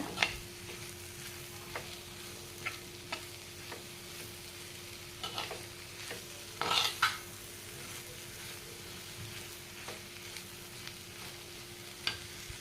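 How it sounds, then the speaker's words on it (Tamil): Banana flower stir-fry sautéing in a pan, a soft steady sizzle with a faint hum beneath and light, scattered scrapes and taps of a stirring spoon, fairly quiet and close, with no talking. "எல்லாம் நல்லா ஒன்றா கம்பைன் ஆகிற மாதிரி இதை நல்லா வதக்கி விடுங்க."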